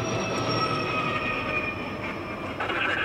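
A CSX freight train with distributed power locomotives rolls past close by, a loud steady rumble with high squealing wheel tones and faint rail clatter throughout, no voices.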